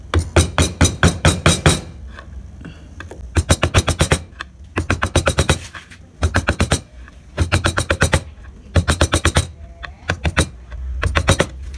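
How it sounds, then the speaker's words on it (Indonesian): A steel chisel struck by a mallet while carving a barong motif into wood, firing rapid bursts of sharp taps in repeated clusters with brief pauses between, close and loud. "Kalian bisa gunakan pahat penguku ya teman-teman, kayak gini"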